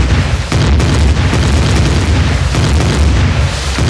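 Heavy, sustained booming blasts roll continuously as a tower is blown apart in a combat video game, with loud deep rumbles and several sharp bursts.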